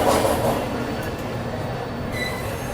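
The Bihar Sampark Kranti Express running on the rails out of New Delhi rumbles loudly and closely, with rolling wheel noise and brief squeals from the wheels over a few seconds.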